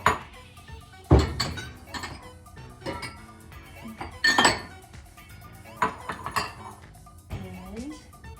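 Kitchen bowls and utensils clinking and thudding as they are set out and handled, scattered sharp knocks and rattles at an irregular pace, close, with a person talking between them.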